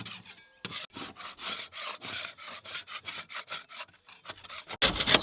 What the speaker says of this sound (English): Just trying to get all the big easy bits off first. Save you sanding them.